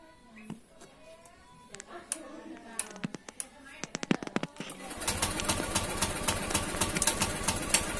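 A Honda New Scoopy scooter engine runs at a steady idle after an injector cleaning, a dense continuous near hum that takes over halfway through after scattered taps and clicks.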